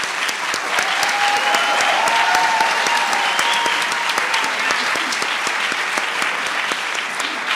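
A large audience claps at a Chicago community summit on healing, sustained dense applause holding steady and loud for several seconds, with faint murmuring voices mixed underneath.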